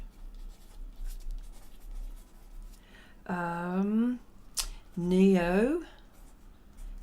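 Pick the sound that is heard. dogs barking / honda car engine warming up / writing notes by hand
writing notes by hand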